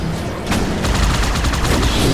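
Rapid, heavy gauss cannon fire in Halo 2 Anniversary crackles in a dense, loud barrage, with punchy bursts layered over a continuous roar of noise.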